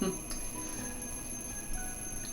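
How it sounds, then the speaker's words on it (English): An alarm clock rings in the video game Kirby's Epic Yarn to wake a bear, a steady electronic ringing that holds for a couple of seconds at moderate volume. "Bear hears the alarm,"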